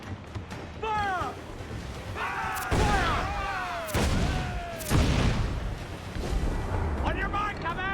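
Ship cannons fire in the naval combat of Assassin's Creed IV Black Flag, with several heavy booming blasts a second or so apart under shouted crew voices and game music.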